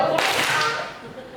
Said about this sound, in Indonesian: Guru berkata tepuk satu